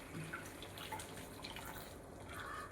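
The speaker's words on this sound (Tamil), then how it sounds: "நான் மூழ்கிற அளவுக்கு மட்டும் ஊற்றுறேன்" Hot water pours into a pot of chicken with a faint, steady trickling splash and a few small drips, quiet and close, with no speech.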